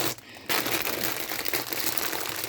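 Plastic packets of craft supplies crinkle and rustle continuously up close during unpacking, the crackling dipping briefly near the start before carrying on steadily.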